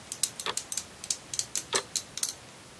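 Rapid dry mechanical clicks from a 36-tooth 3/8-inch ratchet wrench, irregular bursts of sharp ticks with brief pauses, close and fairly quiet.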